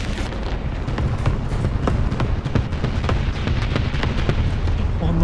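Bomb explosions in a tank battle video game, a dense continuous barrage of booms and crackling blasts, loud and close with no break.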